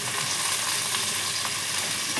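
Onion, tomato and curry leaves sizzle in hot oil in a pan, a dense, even crackling hiss held close and steady through the short stretch with no speech.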